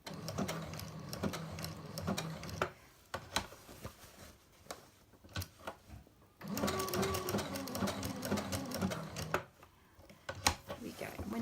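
A sewing machine stitches appliqué fabric backed with bondaweb in close, loud bursts of rapid needle chatter, pausing and restarting as the fabric is turned slowly, while someone talks in between.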